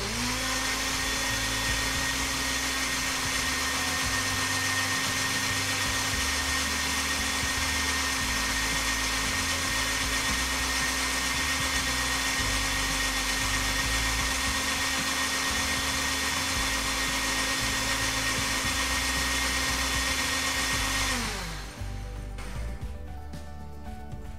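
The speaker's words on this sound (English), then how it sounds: "Just blend that up nicely." A kitchen blender runs continuously at high speed while blending hot sauce ingredients, a loud steady whine for about twenty seconds before it winds down and stops.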